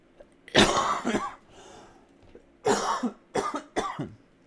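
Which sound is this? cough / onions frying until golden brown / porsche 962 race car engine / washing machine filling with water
cough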